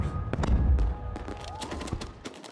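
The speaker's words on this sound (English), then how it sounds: "We're being attacked from all sides by the most magnificent of fireworks." Several sharp booming bangs and crackling pops of fireworks in Tultepec burst in quick succession, some close and some farther off, over a low rumbling background.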